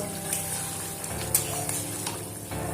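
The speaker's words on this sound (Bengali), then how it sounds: "আবারও খুব ভালোভাবে ফুটতে দেবো রেখে দিলাম" A thin fish curry with potato, fried bori and eggplant bubbles in a pot, giving a continuous soft simmering hiss with small pops throughout and no speech.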